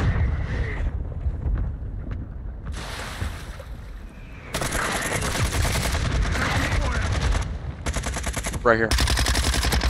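Rapid bursts of gunfire from Call of Duty Warzone 2.0 on Xbox Series X, loud rattling volleys coming in clusters with near-continuous automatic fire, while players talk over the action.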